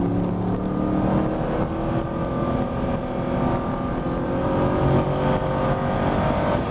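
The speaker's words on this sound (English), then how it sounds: "Driving the car up the hill." Camaro and Corvette running laps at Spring Mountain Motorsport Ranch, a steady loud engine drone climbing a hill with continuous road and tire roar, no speech.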